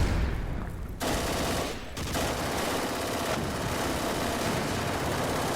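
Rapid, dense gunfire in the wargame Panzer Campaigns, with bursts of crackling volleys that start after a brief low rumble and continue loud and sustained.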